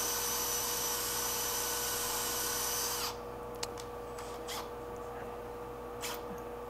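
A power drill bores a 3/16 inch pilot hole into a broken lug nut, whining loud and steady for about three seconds, then stopping, leaving a low hum and a few faint clicks.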